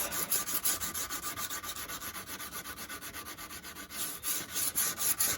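Used emery cloth wrapped on a file rubs along a knife edge in quick, even back-and-forth strokes, a close scratchy rasp repeating rapidly for several seconds with nothing else heard.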